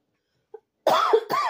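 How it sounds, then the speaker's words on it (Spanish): Two harsh, close coughs in quick succession after a moment of near silence, the second slightly shorter than the first. "Como siempre, la tos."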